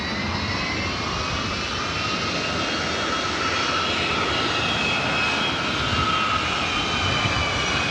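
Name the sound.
Northern Air Cargo Boeing 767 jet taking off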